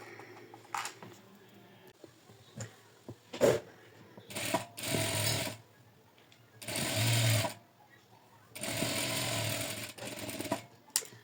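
A sewing machine stitches a kitchen apron in several bursts of loud, rapid mechanical whirring separated by pauses and light handling clicks, close to the listener.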